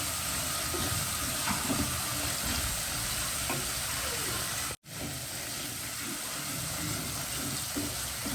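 Ground spices (masala) roasting in a hot pan give off a steady, close sizzle and crackle, with light stirring scrapes throughout and one brief dropout partway through.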